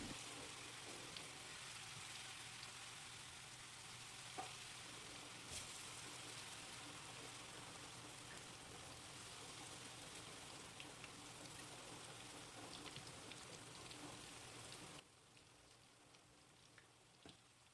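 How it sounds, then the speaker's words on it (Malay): Cempedak pieces coated in batter frying in hot oil, a dense steady sizzle that carries on unbroken and then abruptly drops to a softer crackle near the end. "Bila minyak dah betul-betul panas, barulah kita masukkan cempedak"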